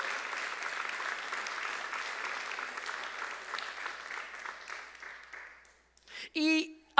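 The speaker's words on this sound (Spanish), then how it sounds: "Dele un aplauso al Señor." A church congregation claps together in sustained applause, a steady crackle of many hands at moderate distance that fades out, followed by a voice speaking.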